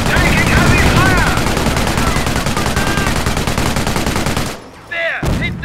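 Heavy gunfire in a Company of Heroes: Opposing Fronts battle, loud sustained bursts of automatic and rifle fire crackling nonstop for several seconds before a sudden brief drop, then shots resume, with voices under the din.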